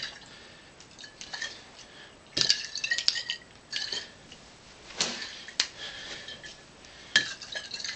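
Glass liquor bottle with a cork flipped and caught by hand, giving sharp scattered clinks and soft thumps with faint sloshing between them, close and quiet, no talk.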